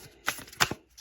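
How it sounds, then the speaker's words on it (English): Tarot cards shuffled by hand, giving two or three brief riffling bursts close by, with quiet pauses between them and no talking. "We'll shuffle them back in."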